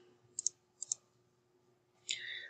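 Computer mouse clicks while installing 7-Zip: two quick double clicks a moment apart, then a brief rush of soft high noise, all quiet and close in an otherwise silent room.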